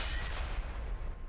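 A single tank cannon shot in a World of Tanks battle, a muffled distant boom that rolls on as a low rumble with no talking over it.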